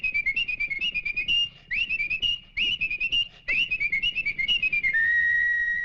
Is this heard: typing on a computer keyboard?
no